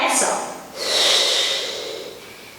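A Pilates exerciser breathing hard during an advanced mat class, with a sharp nasal inhale followed by a long, loud, airy exhale close up.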